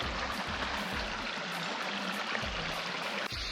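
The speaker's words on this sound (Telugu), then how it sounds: "మేము వాటర్ ఫాల్కి వచ్చాము. చూడండి చిన్నగా ఉంది ఈసారి వాటర్ ఫాల్." A small waterfall produces a steady broadband rush of flowing water that holds at an even level throughout.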